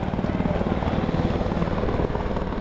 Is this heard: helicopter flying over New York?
yes